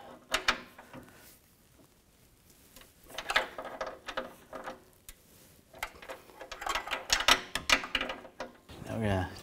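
An 18 mm socket ratchet loosens the lower control arm bolt on a 2006-2010 BMW 550i, giving bursts of quick clicking and metallic rattles close by, separated by short pauses.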